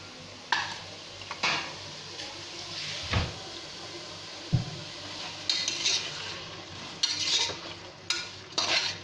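Raw chicken stirred with ginger garlic paste in a pan, giving scraping and clanking spoon strokes against the metal with a light sizzle underneath, close by and without speech.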